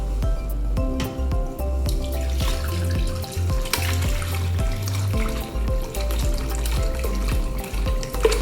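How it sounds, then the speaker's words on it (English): Beef stock for a dark beef stock being poured through cheesecloth in a kitchen, a steady continuous splashing and trickling of liquid, close and fairly loud, without talk. "now I'm going to gently pour it in and try to make sure that the cheesecloth doesn't fall in"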